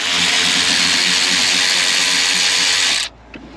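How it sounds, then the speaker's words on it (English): Battery-powered ratchet spinning bolts off a Vauxhall Cavalier CD car, a continuous loud close whirring buzz for about three seconds that cuts off sharply, followed by a faint click. "I'm just going to get the new battery ratchet in and things."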